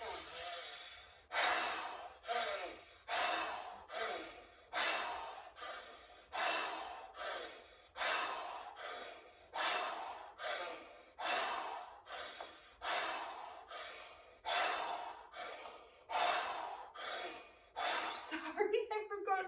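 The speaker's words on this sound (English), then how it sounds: "You're gonna circle your lips like you are sucking through a straw." Rhythmic breaths drawn in and pushed out through pursed lips, as if sucking through a straw, during a Kundalini yoga breathing exercise. About fifteen even, close, airy cycles come at a steady pace.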